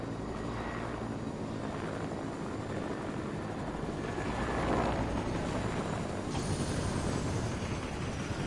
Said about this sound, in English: Helicopter, helicopter, helicopter!